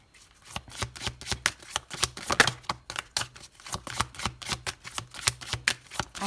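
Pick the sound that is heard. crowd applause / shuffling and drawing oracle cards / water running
shuffling and drawing oracle cards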